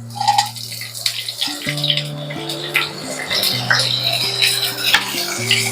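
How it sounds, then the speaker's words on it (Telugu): Chopped small onions and green chillies frying in a pan for okra masala curry give a steady sizzle with occasional spoon-and-pan clinks, heard close up over soft background music. "ఆనియన్స్ ఫ్రై అయ్యేదాకా ఫ్రై చేసుకోవాలి."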